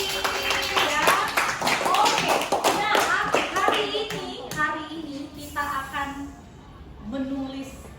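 A classroom of children claps hands together in a quick burst of clapping that tapers off after a few seconds, with kids' voices chattering over and after it.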